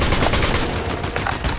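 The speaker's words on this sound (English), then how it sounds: "So this SMG is very accurate at first, and then over time the recoil comes into play" SMG gunfire in the Fortnite video game, a dense continuous burst of rapid shots fired without pause, loud and close for the whole moment.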